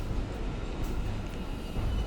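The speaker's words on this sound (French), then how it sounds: "c'est un métro parisien" Paris metro train rumbling steadily at close range, a low continuous rolling drone with no speech.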